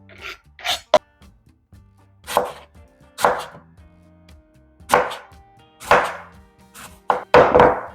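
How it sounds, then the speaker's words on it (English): A knife cutting apples and trimming the hard seed from the centre, a series of separate, close, crisp slicing strokes with short pauses between them, and no talking. "So just a little bit of this hard seed in the center, just cut that out."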